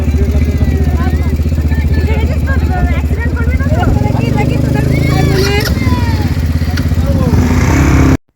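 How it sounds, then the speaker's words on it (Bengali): A motorbike ridden fast along the beach at Mandarmani, its engine droning loud and steady throughout with a passenger aboard, while people talk and shout over it. "আমি আর সৈফ একটা বাইকে বসেছিলাম, আর আমি যত আস্তে চালাতে বলছিলাম ওকে তত জোরে চালাচ্ছিল"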